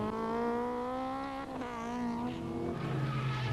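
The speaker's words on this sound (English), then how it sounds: "there's a squeal of tyres" An 1980s British Touring Car racing car's tyres squeal in long, sustained pitched screeches as it spins, fairly faint and wavering in tone, with no talk over it.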